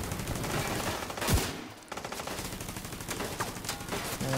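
Automatic turret gunfire in The Division 2 rattles in a loud, continuous stream of rapid shots, briefly dipping around a heavier impact before the firing resumes steadily.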